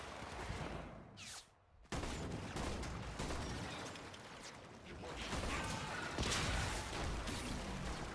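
Shotgun blasts and combat effects in the video game Warframe rattle through a busy, dense mix, with a brief lull before the noisy action resumes and people talking over it.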